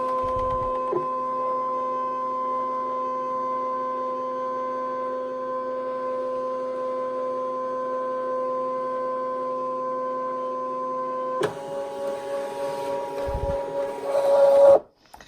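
A Brother ScanNCut CM650W electronic cutting machine hums with steady electronic tones, then shifts into louder whirring and motor noises toward the end, close by with no talking.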